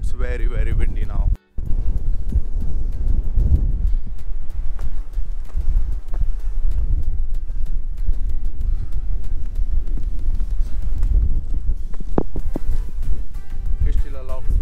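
Strong wind buffets the microphone on an exposed mountain hiking trail near Alesund, Norway, roaring loud and continuous with gusty low rumbling throughout, dropping out for a brief moment early on.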